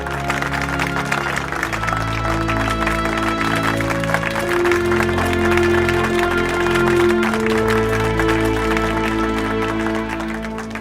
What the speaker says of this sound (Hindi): अब सिर्फ तालियां बजाने से काम नहीं चलेगा